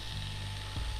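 A brief mechanical whir with a ratcheting buzz, a power drill reeling in fishing line with a fish on, steady and close for about a second.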